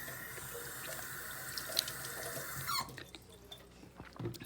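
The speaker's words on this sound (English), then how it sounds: "Gonna rinse." A kitchen tap runs steadily as dishes are rinsed at a sink, a continuous splashing flow for nearly three seconds, then cutting off and leaving faint drips and small clinks.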